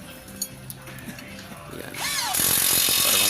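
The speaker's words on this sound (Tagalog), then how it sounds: "impact na natin yung bolt ng shock" An impact wrench drives a shock absorber bolt on a Toyota Vios: a brief rising whine, then a loud, close, continuous hammering rattle for the final second, following quieter workshop sounds.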